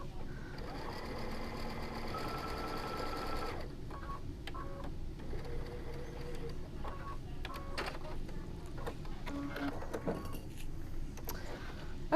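A sewing machine stitches and back-stitches the seam of a fabric rollup organizer, its motor whirring continuously at close range, with the pitch and rhythm shifting partway through as the stitching changes direction.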